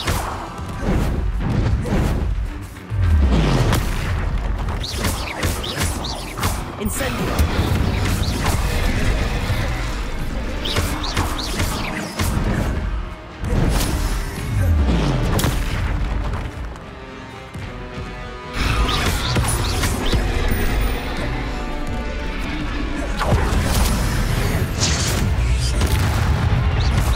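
Bombarda spell explosions in Hogwarts Legacy boom and crash repeatedly over a dense, continuous bed of music and combat noise, with swooshing casts and heavy impacts.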